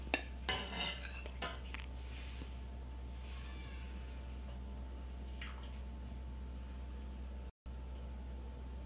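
Dishes and cutlery clink as fish head curry (gulai kepala ikan kakap, Minang style) is spooned onto a plate, with a few scraping clatters early, then quieter handling over a steady low hum.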